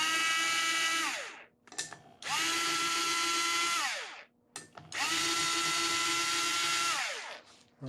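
Power tool running down cylinder head bolts on a 2008 Acura MDX, three loud close whirring bursts that each wind down in pitch, separated by brief clanks and pauses.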